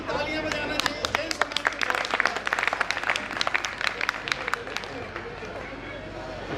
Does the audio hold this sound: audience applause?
yes